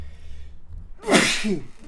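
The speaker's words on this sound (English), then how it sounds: "I'm gonna sneeze." A single loud sneeze bursts out after a brief quiet intake of breath, close and sharp.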